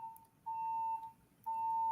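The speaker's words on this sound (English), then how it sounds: "That's a fire alarm." A building fire alarm sounds in two steady tonal beeps, each about half a second long, with a pause between them. The alarm is heard faintly at a distance in a quiet room, with no talk.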